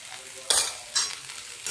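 Poha with turmeric is stirred in a frying pan, giving three quick scraping, sizzling strokes at a gentle rhythm, close up and alone.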